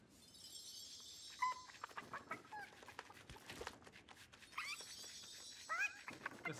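Chickens in the Lego Fortnite video game cluck and squawk in short bursts at the start and near the end, over a busy clatter of game sounds, fairly close and without talk.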